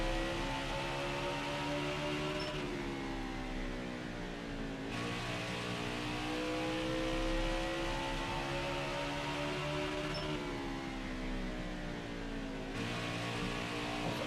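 Race car engine on the Bristol track in NASCAR Heat 5, a steady drone with the pitch rising and falling as the car goes through each lap, holding a constant loud level throughout.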